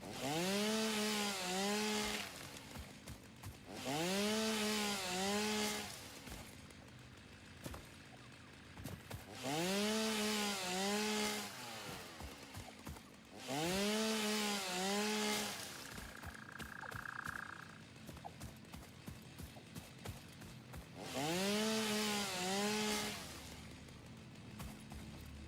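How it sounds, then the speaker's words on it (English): Video game chainsaw revving in repeated bursts, five loud whining cuts each lasting about two seconds with rattling idle between them, close and alone without talk. "Yeah, that's exactly how chainsaws work."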